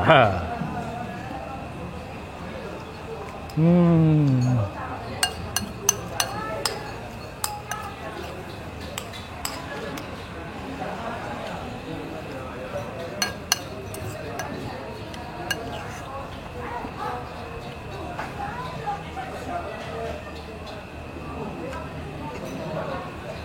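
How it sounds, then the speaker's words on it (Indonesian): Metal spoon clinking against a bowl while finishing a serving of Indomie noodles, a scatter of sharp, light clinks at irregular intervals over a steady room background, with brief speech near the start. "Dan karena tinggal sedikit, saya mau menuntaskannya dengan sendok saja."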